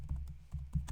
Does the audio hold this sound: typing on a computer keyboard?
yes